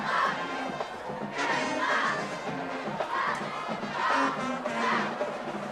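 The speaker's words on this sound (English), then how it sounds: "Crowd only getting louder." Crowd cheering at a high school football game, Salesianum vs. Dover, a dense roar of shouting voices that swells in repeated surges, fairly close and loud throughout.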